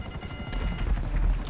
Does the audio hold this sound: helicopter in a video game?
yes